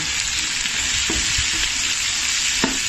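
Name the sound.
sautéing vegetables and bean sprouts in a pan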